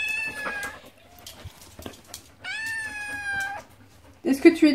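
A cat meows repeatedly, long drawn-out complaining cries close by, with quiet pauses between and a brief shuffle near the end.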